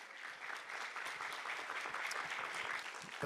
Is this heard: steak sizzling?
no